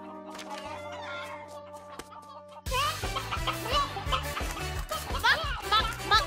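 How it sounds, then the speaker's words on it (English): Cartoon chickens cluck busily in a farmyard in a Little People animated show, the clucking rising over music after a quieter opening, with children's voices chattering. "Sophie, what are all the chickens doing out here?"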